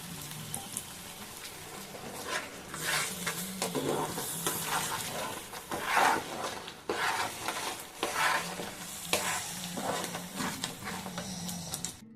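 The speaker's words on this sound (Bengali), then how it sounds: "200 গ্রাম দই আমি দিয়ে দিলাম এখানে।" Yogurt is stirred into katla fish masala frying gently on a low flame; a spoon scrapes and stirs in repeated rhythmic strokes over a soft, continuous sizzle, heard up close with no talking.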